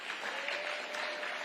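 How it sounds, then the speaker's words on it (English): A political audience breaks into steady, dense applause, a continuous wash of clapping from a crowd. "Yeah, clap it up."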